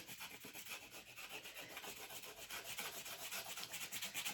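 Something scratches a wooden surface while a craft advent calendar is opened, a quiet, steady series of rapid rhythmic rasping strokes heard alone.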